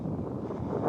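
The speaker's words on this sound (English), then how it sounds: "it is kind of windy" Wind blows outdoors on a breezy day, a steady low rumbling buffet against the microphone with slight gusty swells and no other sounds.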